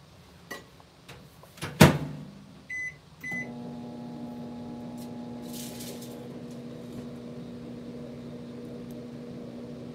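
Microwave oven running a ten-second reheat on melted coating for Valentine strawberries: a door click and loud beep open the clip, then a steady electrical hum with a faint whir fills the rest, no voices.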